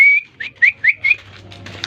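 A short run of bright, whistling pigeon calls rising and falling in quick succession, close by, followed by faint fluttery chirps and a low background hum.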